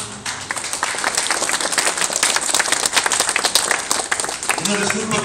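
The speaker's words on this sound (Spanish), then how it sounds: "Vamos a brindarle un fuerte aplauso, señoras y señores." An audience at a Zapata death anniversary commemoration in Coatetelco, Mexico, claps and applauds steadily, a dense burst of hands filling the space, with a voice briefly emerging near the end.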